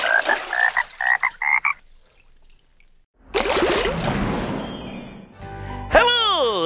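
Frogs croak in a children's song segment, with a voice imitating them in rhythmic ribbit calls before a pause, then splashing water and cartoonish sound effects.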